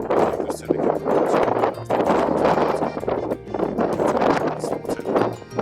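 Strong wind on Mount Elbrus roars and buffets against the microphone in a dense, continuous rumble, with gusts rising and falling throughout and talk mixed under the noise.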